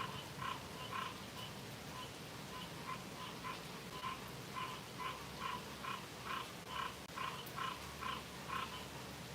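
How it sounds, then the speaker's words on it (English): Leopard frogs call in a steady outdoor chorus of repeated rhythmic croaks, each pulse evenly spaced over a quiet background hiss, with no talking. "These are leopard frogs."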